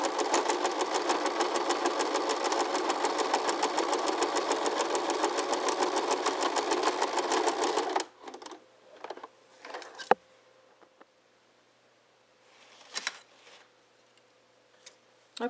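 A sewing machine stitches pumpkin luminary fabric in a steady, close mechanical whir for about eight seconds, then stops, leaving faint clicks and handling noises.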